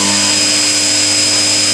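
Novakon Torus Pro CNC mill cutting aluminum at high spindle speed, a loud steady high-pitched tonal whine with constant machine hum, uninterrupted and close.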